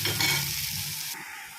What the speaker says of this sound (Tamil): வெங்காயம் போட்டுக்குங்க. அதுவும் லேசாக வதங்கணும் போதும்.